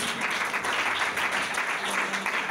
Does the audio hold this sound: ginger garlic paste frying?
no